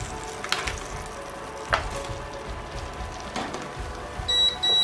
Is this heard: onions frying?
yes